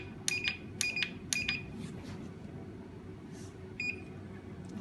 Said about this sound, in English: It has several short beeps prompt